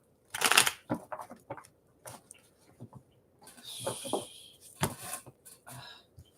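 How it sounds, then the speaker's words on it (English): Tarot cards are shuffled by hand in a series of quick riffling bursts and soft flicks, close and fairly quiet, with short pauses between the shuffles. "One more shuffle."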